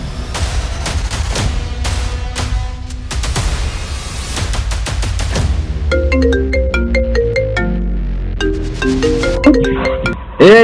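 A mobile phone ringtone plays a bright, repeating melody of beeping notes in the second half of a Telugu short-film scene, after a stretch of sharp percussive bangs.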